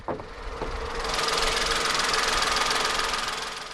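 A 2015 SEAT Ibiza's 1.2 litre naturally aspirated inline-three, with dual overhead cams, 12 valves and multi-point fuel injection, idles steadily and close by, with a faint rattly hum and no voices.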